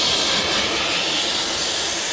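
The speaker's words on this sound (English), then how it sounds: "So steam releases the adhesive." A steam cleaner hisses steadily at close range, a loud continuous broadband rush used to release sticker adhesive from the paint of an Alfa Romeo 164 Cloverleaf during detailing.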